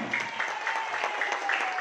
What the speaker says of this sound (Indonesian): Tepuk tangan buat Best Corporation.